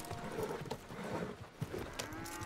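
Horse hooves clip-clop at a slow walk in Red Dead Redemption 2, a steady uneven patter of soft thuds close by under ambient game sound.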